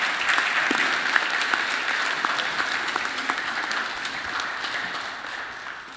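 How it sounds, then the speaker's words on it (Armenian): A church congregation applauds during a Sunday service, a dense, steady wash of many hands clapping that slowly fades toward the end. "Գնանք ծափահարել Էդվարդին համար։"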